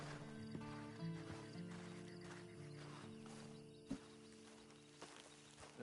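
A horse in the video game Red Dead Redemption 2 clip-clops and snorts faintly at a distance, with steady low background hum and no talking.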